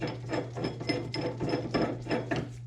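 A hand ratchet wrench turns a 7/8 socket during U-joint replacement on a 1967 Chevy Corvette, giving a rapid run of close, rhythmic clicks over a low steady hum.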